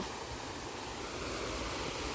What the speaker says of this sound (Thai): น้ำตกผาแดง